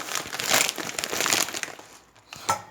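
A Nesquik packet crinkles as it is handled, with loud rustling plastic crackles for about two seconds, a brief pause, then one last crinkle, close to the microphone.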